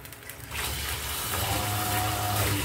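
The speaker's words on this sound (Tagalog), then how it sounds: "Dagdagan natin yung tubig niya" Water pours steadily into a pot, a continuous gushing splash close by that grows slightly fuller as it fills.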